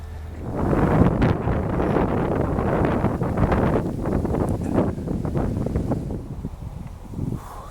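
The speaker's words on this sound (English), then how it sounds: "It's been quite windy" Gusty wind blows at a lakeside on a Bavarian carp fishing trip, with loud buffeting rumble and rustle against the microphone that rises and falls throughout.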